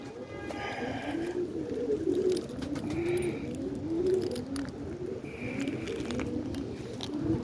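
Roller pigeons coo continuously in a loft on a rainy morning, a dense chorus of low, rolling calls layered close together with occasional wing flutters and faint chirps.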